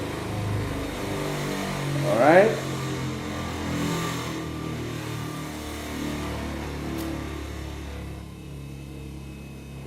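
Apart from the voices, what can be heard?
lab electric motor slowing as power supply is reduced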